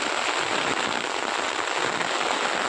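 Heavy monsoon rain falls steadily on flooded farm fields in Banaskantha, a dense, even hiss of downpour that fills the whole clip with no pauses and no voices.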